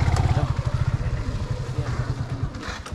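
A motorcycle engine runs steadily during the ride, its low rhythmic pulsing close and continuous, with light clatter over it.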